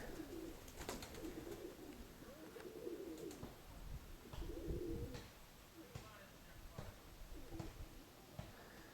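Pigeons coo repeatedly in a yard in the Konotop area, soft throaty rolling calls returning every few seconds over a steady outdoor background, with a few faint clicks and rustles between them.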